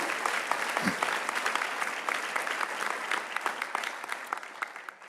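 A church congregation at an evangelical service applauds. The clapping is dense and continuous, fairly close and full, with individual claps standing out throughout.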